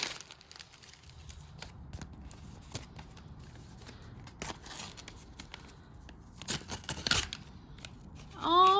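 A small paper envelope holding old Pokémon cards is torn and opened by hand, with soft crinkling and rustling throughout and sharper tearing bursts near the middle and end, all fairly quiet and close.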